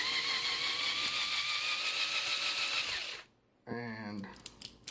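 A drill spinning a pipe cutter on trumpet slide tubing whirs steadily at high speed for about three seconds, then cuts out; a brief burst of voice and rattling follows.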